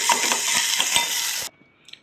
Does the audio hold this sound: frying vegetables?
yes